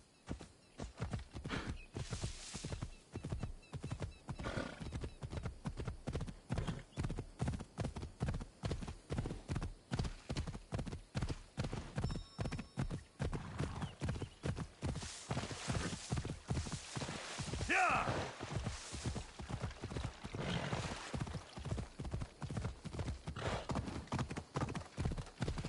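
Horse hooves clip-clop in a fast, steady rhythm in the Assassin's Creed Odyssey video game, continuous and close throughout, with a brief whinny partway through.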